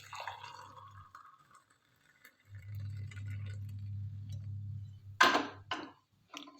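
Hot water from a kettle is poured into a coffee packet as a soft, low, steady stream that runs for a few seconds. A sharp crinkle and clink follow near the end, all close and fairly quiet.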